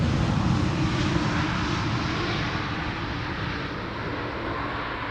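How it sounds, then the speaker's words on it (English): KLM airliner landing at Amsterdam Schiphol in crosswinds, a steady, fairly quiet jet engine roar holding at even strength and then easing slightly, with no talk over it. "Now, the airplane in theory has the potential to get loud, but sadly in the hands of KLM pilots it's usually a quiet landing."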